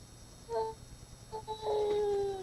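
A dog howls faintly in the background, a few thin rising and sustained wails that come and go over low room noise.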